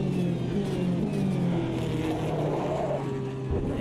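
Race car engine in the Automobilista 2 racing game, a steady loud whine with shifting harmonics as cars of several classes run together on a drying track, continuous throughout with no talking.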